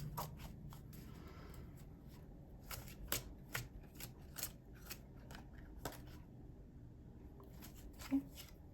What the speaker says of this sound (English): Shuffle and get a couple more.